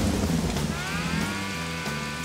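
Heavy rain pours down steadily during outdoor chuck wagon races, a dense, even hiss with a low rumble underneath and no voices.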